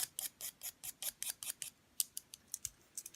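A cutter blade scrapes a stick of dry pastel in a rapid series of short, crisp rasping strokes, steady in rhythm, close and fairly quiet, with no talking.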